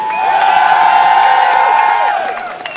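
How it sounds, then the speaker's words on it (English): A large crowd cheers and whoops loudly and continuously for a team at a pro gaming finals event, the roar holding steady before tapering slightly at the end. "let me hear you guys cheer for Epic Gamer"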